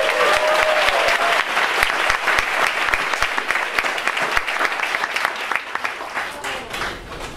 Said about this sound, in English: so let's all just give ourselves a round of applause.